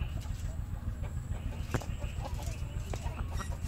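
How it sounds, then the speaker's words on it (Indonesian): Free-range Birman breed chickens on a farm make scattered clucks and short calls over a steady low background rumble. "Ini jenis Birman nih teman-teman, ayam jenis Birman."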